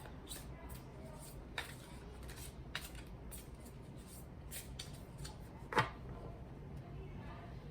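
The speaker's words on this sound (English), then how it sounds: "So I'm just stopping the shuffle randomly." Tarot cards are shuffled by hand in soft, close, irregular riffles and slides, with one sharper snap near the end where the shuffle stops.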